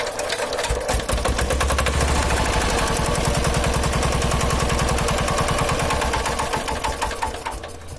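A China CD motorcycle engine with a starting problem catches and runs, a loud rapid popping putter that holds steady for several seconds before easing slightly.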